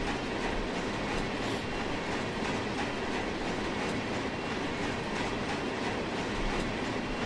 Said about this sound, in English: So we're going over switches there